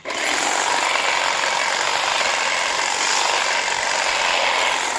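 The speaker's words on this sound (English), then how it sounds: "I got my power tools out because everybody knows power tools are better" A loud power tool roars continuously and close up, a steady harsh whine that holds without pause.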